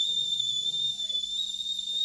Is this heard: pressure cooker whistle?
yes